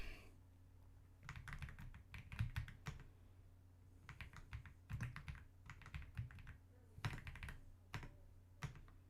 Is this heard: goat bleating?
no